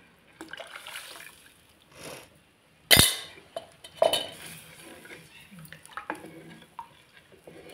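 A spoon stirs water swirled through a mixer jar and scrapes into a pot of misal, with close metallic clinks, one loud bang of steel near the middle and light scraping throughout.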